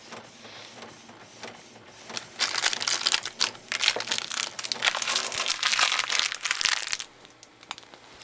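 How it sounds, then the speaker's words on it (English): A home printer running close by, quiet at first, then a loud rattling, clattering burst of mechanical feeding and grinding for several seconds before it settles. "My printer's shaking the camera."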